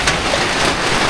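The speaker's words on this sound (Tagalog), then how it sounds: "naulan-ulan kasi dito guys." Rain falls steadily outdoors on a gloomy, overcast day, a loud dense hiss that fills the whole moment without breaks or voices.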